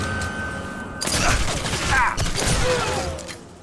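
Gunfire in the video game Sniper Elite 3 erupts as a loud burst of shots and clattering impacts after a quieter opening, with game voices under the din.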